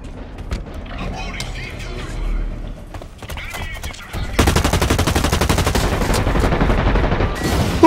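Rapid automatic gunfire from the online shooter Blacklight: Retribution, a long rattling burst that starts abruptly midway and runs loud and fast to the end, preceded by quieter game sounds and someone talking.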